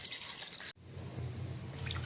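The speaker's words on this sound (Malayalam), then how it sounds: "പിന്നെ അതിലേക്ക് നമ്മൾക്ക് ആവശ്യത്തിനുള്ള വെള്ളം ഒഴിച്ചു കൊടുക്കാം" Water is poured into tamarind for rasam, a continuous close liquid splashing and trickling that briefly cuts out, then resumes as a steady pour.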